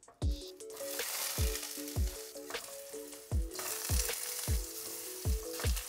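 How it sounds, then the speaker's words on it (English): Continuous loud sizzling of potatoes frying in hot mustard oil, with periodic low thumps and a faint repeating tonal beep pattern underneath. "I'm going to fry the potatoes till they are golden brown."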